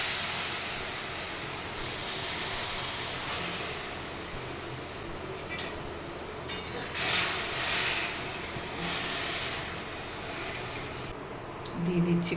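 Tamarind dropped into hot oil in a pan while making dahi vada, giving a steady broadband sizzle and hiss that holds throughout, with a few crackling pops and clinks along the way.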